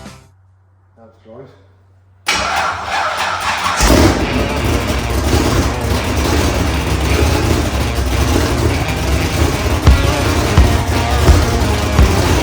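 A blown 540 engine in a drag car cranks and fires for its first start-up, then settles into a loud, rough, lumpy idle after a quiet moment with faint voices before ignition.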